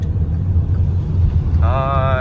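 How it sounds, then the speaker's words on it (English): Steady low road rumble inside a car driving home after collecting two bicycles, a constant droning hum throughout with a brief higher tonal whine near the end. "So we're now in the car on the way home."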